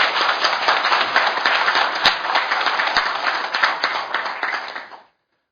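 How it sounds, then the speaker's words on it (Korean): Audience at a Korean political forum on fair market competition and economic growth applauds warmly, a dense, steady wash of many hands clapping for about five seconds before cutting off abruptly. "박영선 의원께도 여러분 뜨거운 격려의 박수 한번 부탁드립니다."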